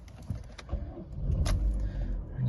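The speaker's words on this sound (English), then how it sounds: "Put the car on." A silver Vauxhall Astra 1.6 16v Excite Euro 5 five-door is switched on, with a few clicks from the key and ignition followed by a low rising engine rumble, close and inside the car.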